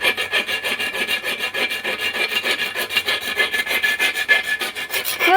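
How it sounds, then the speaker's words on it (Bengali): A nut being cut loose while a tap is repaired, heard as a steady, rapid rasping scrape of a tool working back and forth on metal, loud and close, with no talking. "আমি আস্তে আস্তে একটা নাট কাটি ফেল।"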